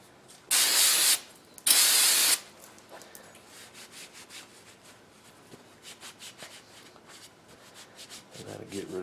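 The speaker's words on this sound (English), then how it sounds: "what I'm using is a little carburetor cleaner, and we're just going to degrease these" Two loud bursts of aerosol carburetor cleaner spraying onto a forged butcher knife to degrease it, each lasting under a second, followed by quieter handling noises and faint rubbing.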